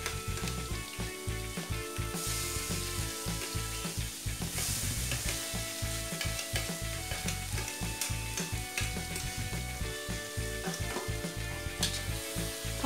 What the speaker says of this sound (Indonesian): tumis sampai bumbunya itu benar-benar harum dan harus tanak